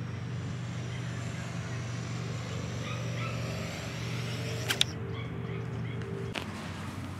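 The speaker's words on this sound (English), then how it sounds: "The motors don't sound good." Motors of a Diatone GT-R349 3-inch micro racer drone with over-high PID tuning, a steady high buzzing drone heard at a distance, joined briefly by a couple of short sharp clicks.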